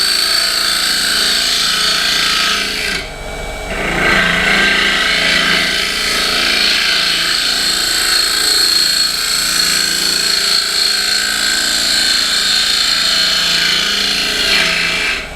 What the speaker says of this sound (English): And this wood's completely dry, and you can see nice little shavings off of it.